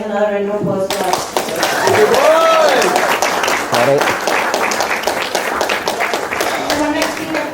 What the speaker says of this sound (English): Another round of applause for us.